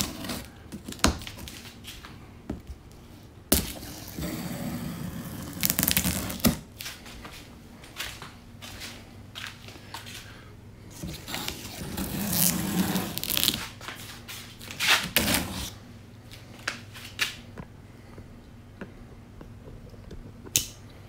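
A knife slicing open a cardboard box holding a Weber Performer Deluxe grill, heard as close, irregular scraping, tearing and crinkling bursts with brief pauses between strokes.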